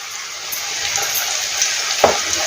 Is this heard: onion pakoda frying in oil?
yes